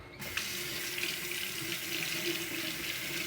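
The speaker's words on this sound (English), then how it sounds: "Ignore the rushing water." A bathroom tap gushes warm water into a sink before shaving, a loud steady rushing splash that starts abruptly and continues without pause, no one speaking.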